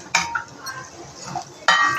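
A spatula tosses fried okra with chili powder and garlic chili powder in a pan: two sharp metallic clinks about a second and a half apart, with soft scraping between them, close and fairly quiet.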